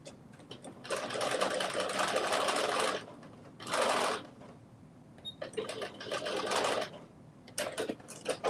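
A sewing machine back stitching a dress lining runs in several quick bursts of rapid needle chatter, separated by short pauses, close and fairly loud.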